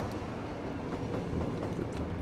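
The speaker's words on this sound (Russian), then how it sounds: "Пусть себе поезда ездят потихонечку." Trains moving through a city in Cities: Skylines; a steady rumbling roll with soft clickety-clack over the rails, continuous and moderately loud, with no speech.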